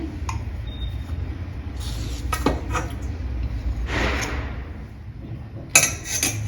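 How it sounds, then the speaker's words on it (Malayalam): A metal sev press (sevanazhi) being filled with karasev dough gives close, irregular handling noises: clunks, taps and scrapes of metal parts, scattered over a quiet kitchen background, with a sharper knock near the end. "ഇനി ഞാനിത് സേവനാഴിയിൽ നിറക്കട്ടെ"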